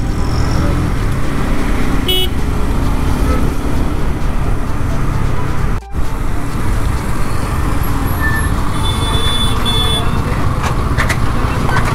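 Dense city road traffic in India heard from a Honda CBR 150R motorcycle in first gear, with a loud steady roar of engines and scattered horn toots throughout, no talking.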